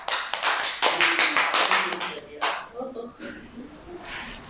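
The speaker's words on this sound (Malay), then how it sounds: "Okey, tepukan." A speech club class in Miri breaks into applause: a burst of close, rapid hand claps from a small group that thins out after a couple of seconds, with voices talking over the end.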